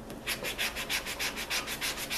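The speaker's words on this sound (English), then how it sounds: "I'm going to use a coarser grade of sandpaper. This is an 80." Coarse 80-grit sandpaper scrubs a weathered wooden garden tool handle in loud, close, evenly paced back-and-forth strokes, about a dozen rasping passes in a steady rhythm with no talking.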